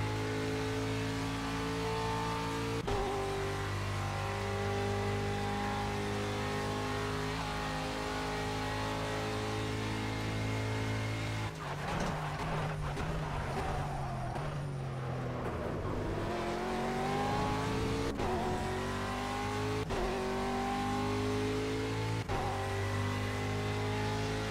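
Aston Martin V8 Vantage GTE racing at Le Mans in Project CARS, a loud sustained V8 engine drone with several sharp gear shifts, plus a stretch of braking and downshifting before it accelerates hard again.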